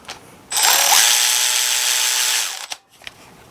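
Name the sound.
high-speed ratchet running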